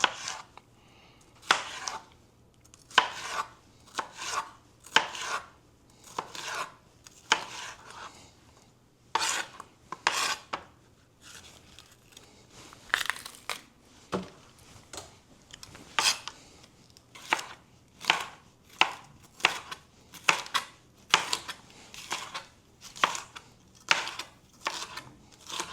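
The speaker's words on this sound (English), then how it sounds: "Just gonna cut up these peppers." A knife chops red peppers on a board for a Jamaican-style sweet pepper gravy, each stroke a crisp knock in a steady, near rhythm, pausing briefly midway before resuming, with no talking.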